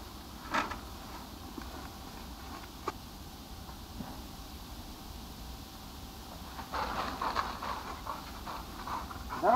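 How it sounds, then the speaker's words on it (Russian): Quiet, steady panting from a dog, close by, with a few faint knocks and rustles in the background. "Эй, Бонька, хорошая собака. Помогает мне"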